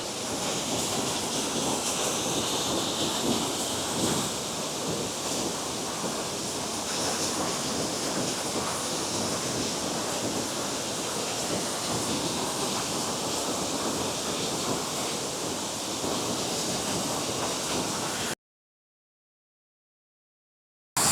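Steady, dense roar of Kangsuri waterfall in monsoon Meghalaya, heard from the lower viewpoint close to the falls, a continuous loud wash of falling water with no voices, ending abruptly in silence.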